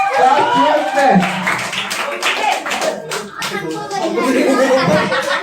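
A crowd claps in a continuous rattle of hands at a school Saraswati Puja award ceremony as a Class 12 arts student is called up, with children's voices and chatter mixed into the steady applause.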